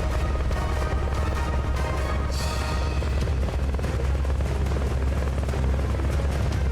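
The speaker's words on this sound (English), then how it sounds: "I saw that the helicopter was there" A loud, steady helicopter rotor drone in the video game Metal Gear Solid: Peace Walker fills the scene continuously, with dense rumbling and occasional bursts mixed in.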